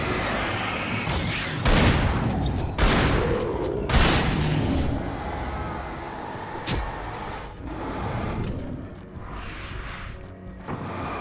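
Gunfire in the Alan Wake video game, several loud booming shots spaced irregularly over a dense, rumbling game soundscape, with one sharp crack standing out midway.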